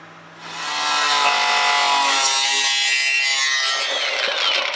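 A metal repair patch for a 1969 Triumph GT6 Mk2 bonnet is trimmed with a power tool, a loud, continuous close-up grinding whine that starts after a brief quiet moment and runs steadily to the end.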